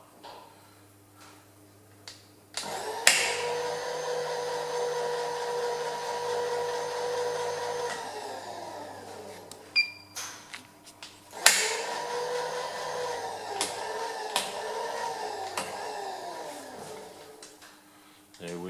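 A power drill bores holes for a D-shackle in two long runs. Each run is a steady whirring motor drone that winds down at the end, with clicks and handling knocks in between and a voice talking at times.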